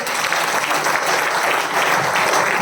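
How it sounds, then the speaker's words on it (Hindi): Loud, sustained applause from a large crowd in a hotel banquet hall in Ranchi, continuous clapping filling the whole moment without any voices on top. "एक बार खुद के लिए जोरदार ताली होनी चाहिए।"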